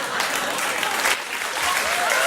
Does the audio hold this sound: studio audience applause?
yes